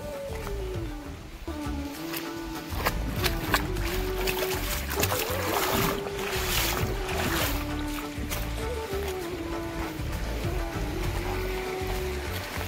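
Water rushes and flows continuously through a flooded paddy field during rain in a Konkan village, loud and close, a steady churning wash over the whole stretch.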